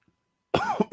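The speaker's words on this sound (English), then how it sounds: "Just having to cough." A single short cough, close by, breaking into two or three quick bursts after a moment of silence, while tasting Courvoisier cognac.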